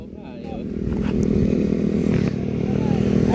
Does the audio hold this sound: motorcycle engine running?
yes